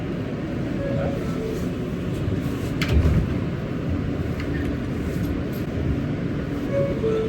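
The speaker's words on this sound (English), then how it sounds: "Oh, my God, y'all, we made it on the train." A New York subway F train riding along, a steady loud rumble of wheels and car noise from inside the carriage, with a brief louder clank near the middle and no clear talk.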